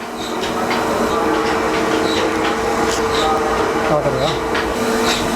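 Solar-powered 10 hp flour mill (atta chakki) running, a loud steady mechanical drone with a rhythmic clatter and tonal hum, with someone speaking over it.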